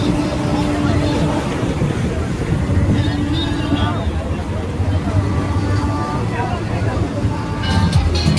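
Sea waves at Puri at night roll in as a continuous loud roar mixed with wind buffeting the microphone, with faint voices in the background.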